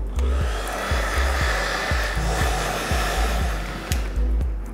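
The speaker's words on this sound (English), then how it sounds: "I'm going to hit it with a blow dryer really quick" A hair dryer blows steadily and loudly throughout, its airflow roar broken by a few soft clicks and bumps as it moves.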